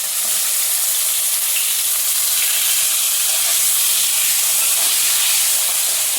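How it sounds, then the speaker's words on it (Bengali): Sliced bitter gourd and potato frying together in oil in a wok, giving a loud, steady, close sizzle and hiss that runs unbroken throughout. "তো চলো উচ্ছে আর আলু একসাথেই ভেজে নিই।"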